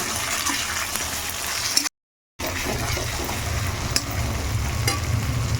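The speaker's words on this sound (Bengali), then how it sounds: "এখন এটা ভালো করে একটু এর সঙ্গে কষাবো" Mutton with ground cumin paste and a little tomato is stir-fried in a pan, with a loud, steady sizzle and frying hiss broken by a short cut of silence and then resuming with stirring scrapes.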